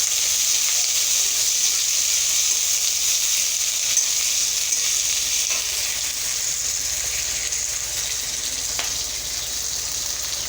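Onion and garlic fry in a pan with a steady, close sizzling hiss that holds evenly throughout, with no talking.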